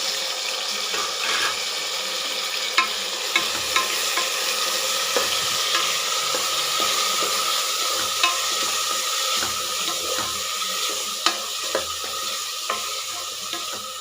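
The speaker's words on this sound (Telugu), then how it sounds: "ఇప్పుడు టమాటా వేసుకుందాము." Chopped tomatoes frying with onions in a pan for paneer rice give a steady, bright sizzle with frequent small pops and crackles of the spoon stirring, close and continuous, without speech.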